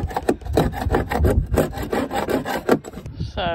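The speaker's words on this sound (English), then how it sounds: "Scraping it all." Rotten wood is scraped off the bottom of a boat hull, a fast series of rough, rasping strokes close up and loud, ending with a brief higher-pitched squeal.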